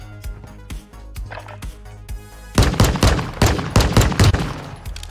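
Video game gunfire, a run of sharp shots at first then a denser, louder volley of rapid bursts, close and prominent with no talk over it.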